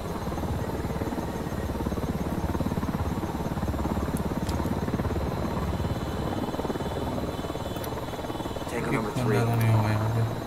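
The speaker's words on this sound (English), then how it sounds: "Don't need that chopper." Helicopter rotor drone from the video game Ghost Recon Wildlands, a steady continuous thrum filling the whole stretch, with a voice talking over it and a louder low rumble swelling near the end.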